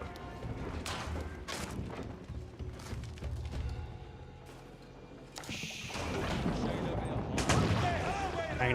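Volley of musket gunfire in a real-time strategy battle in Age of Empires 4, with dense overlapping shots and crashes that swell louder near the end, running under continuous commentary.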